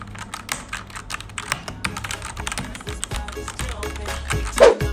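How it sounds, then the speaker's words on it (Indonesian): Rapid, steady typing on a Fantech MAXFIT61 mechanical keyboard with red switches, a dense run of close, soft clicks and clacks with no voice over them. "yang sedang kupakai ini adalah tipe red switch, karena switch tipe red ini tidak terlalu berisik dan nyaman untuk dipakai"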